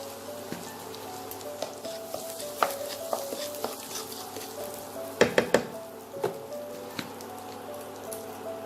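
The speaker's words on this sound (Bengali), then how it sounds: "এবার এই তেলেই আমি চামচ মতো হিং দেব।" Asafoetida sizzling in hot oil in a pan for Kashmiri dum aloo, a steady frying crackle with scattered sharp clinks of a spoon against the pan, close and alone.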